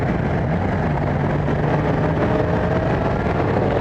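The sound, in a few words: Yamaha FZ-07 motorcycle twin engine rumble while riding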